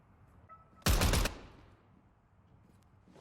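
A single short burst of rapid automatic gunfire rips out in the Zero Hour video game, loud and dense for under half a second, with quiet ambience before and a fading tail after.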